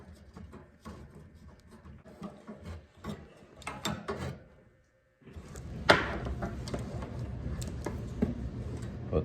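A nut being screwed onto the mount of a greenhouse ventilation fan makes faint, close ratcheting clicks and scraping taps in a loose rhythm, with a brief pause midway and louder handling afterward.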